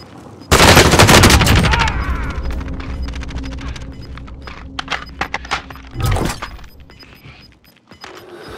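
Light machine gun fire in the video game Warzone rips out in a loud, dense burst, followed by scattered shorter shots and another sharp burst, all close and punchy.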